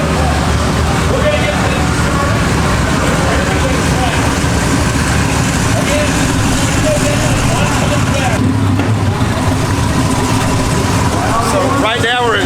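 Drag race cars, a Challenger against a Camaro, at the TX2K 2024 event: a dense, steady roar of engines and crowd noise with people talking throughout.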